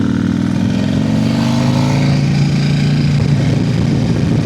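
A KTM motorcycle ridden along a switchback road, its engine a loud continuous drone with a pitch that climbs and shifts as it revs, heavy wind and road rumble underneath, no talking.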